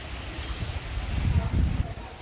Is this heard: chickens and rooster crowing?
no